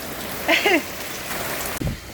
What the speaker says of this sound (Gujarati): મોટા છાંટે વરસી રહ્યો છે.